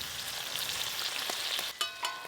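Banana flower chops sizzle as they deep fry over high heat in a kadai, a steady bubbling hiss with a few sharp crackles near the end, close and clear.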